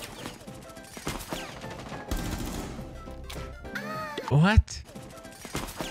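Gunfire in the tactical shooter Rainbow Six Siege aimed at a Jaeger operator, rapid bursts of automatic shots and crashes mixed with game sounds, loud, with a voice exclaiming briefly over it.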